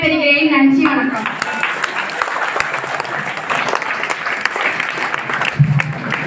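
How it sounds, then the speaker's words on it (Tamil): Audience applause at a Maha Shivaratri event fills the room after a speaker closes with thanks, a dense sustained clapping that follows a brief voice and runs steadily throughout. "இந்த கைத்தட்டலே அதுக்கு சாட்சி."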